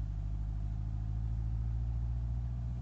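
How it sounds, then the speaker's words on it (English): A car in a driving video game rolls along a dirt road, its mid-pitched engine humming steadily at a constant low drone, close and alone with no talk. "Alright, let's go on the dirt. Okay, driving on a dirt road."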